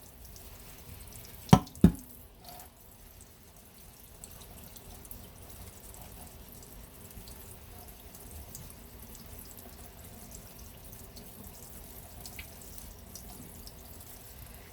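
Water runs steadily from a sink tap while soap is used to scrub etching cream off an etched surface, a soft continuous flow with a couple of brief knocks near the start.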